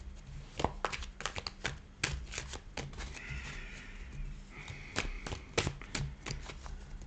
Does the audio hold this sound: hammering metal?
no